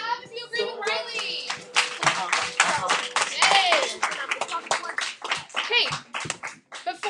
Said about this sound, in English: everybody clap if you agree with Riley